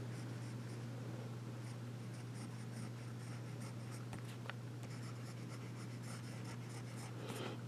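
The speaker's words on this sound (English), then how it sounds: "let's get to writing" A Birmingham Jurassic Amber fountain pen writes with ink on paper, a soft continuous scratching with small nib ticks and strokes over a steady low background hum.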